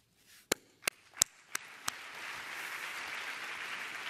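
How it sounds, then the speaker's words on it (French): An audience at a forum begins clapping with five sharp, separate claps, then swells into sustained, dense applause that fills the room. "Je voudrais vous applaudir,"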